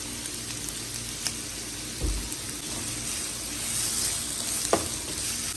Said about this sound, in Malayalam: നമുക്ക് ഇനി ഇതൊന്ന് വഴറ്റിയെടുക്കാം ഒരിച്ചിര ഉപ്പിട്ട് വഴറ്റി കൊടുക്കാം